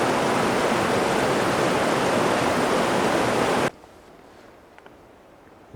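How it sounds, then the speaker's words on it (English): A shallow stream running across a backpacking trail near Evolution Lake and Darwin Canyon, a loud close rushing burble that stops abruptly partway through, leaving quiet background. "Even then, the stream is still running through the trail."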